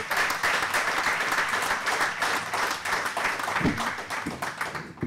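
An audience at a QuickBooks launch evening claps steadily, giving a dense, sustained roomful of applause that tapers slightly at the end.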